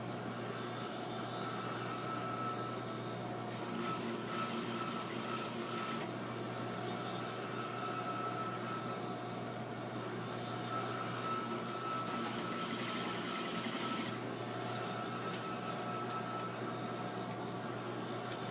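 A sewing machine stitches a neck facing around a curve, keeping up a steady mechanical whirring hum with a few short bursts of louder clatter and rattle, close by, with no talking.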